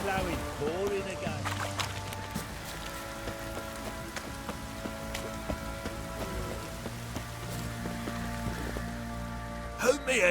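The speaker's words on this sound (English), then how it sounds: "It's ploughing, pouring again." Steady pouring rain in The Witcher 3 forms a constant wet hiss beneath sustained game music and tonal ambience, with a sharper knock near the end.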